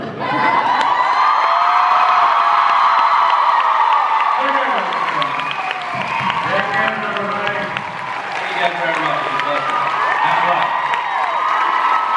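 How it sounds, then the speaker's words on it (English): A large fan convention crowd at a Supernatural event in DC claps and cheers loudly and continuously, with whoops and shouts mixed into the sustained roar and voices audible throughout. "Please applaud off the stage our youngest brother."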